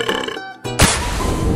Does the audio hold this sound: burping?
yes